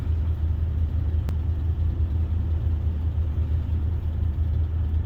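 A 1975 Lincoln Continental Town Car cruising on the road gives a steady low engine and tire rumble from inside the cabin, with one brief click early on.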